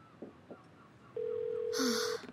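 A telephone rings unanswered, heard as a single long, steady electronic tone lasting about a second, fairly clear over a quiet room background.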